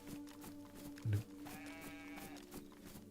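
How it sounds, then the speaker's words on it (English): A single short bleat from a sheep in the video game DayZ, near the middle, set against a steady droning game soundtrack with tonal hum. "It's a sheep."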